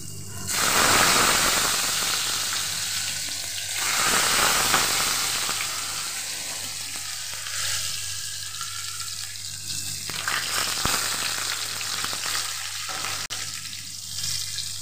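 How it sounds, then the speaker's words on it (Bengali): Pumpkin seeds fry in a pan with a steady, loud sizzle broken by scattered sharp pops and crackles, with no talking over it. "বীজগুলো না খুব ফুটছিল"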